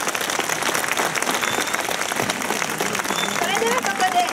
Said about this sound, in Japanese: 今一度大きな拍手